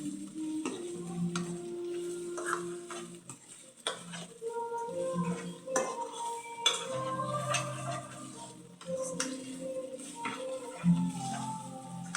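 Ginger being stirred into an egg curry in a pan, with scraping and clinking of a utensil against the pan over a background of cooking noise, irregular and close, with no talk.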